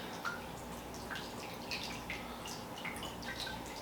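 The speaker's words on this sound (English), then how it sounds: "let's pour the small batch 4-year rye at the exact same proof into this glass." Small-batch four-year rye whiskey is poured into a glass, a quiet, soft trickle of liquid with faint splashes and light clinks over a low hum of background noise.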